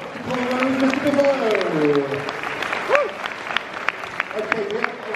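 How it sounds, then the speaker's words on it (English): Audience applause at a live comedy show at a gaming expo, steady and lively, while a voice speaks over it near the start. "Ladies and gentlemen, can we give a round of applause?"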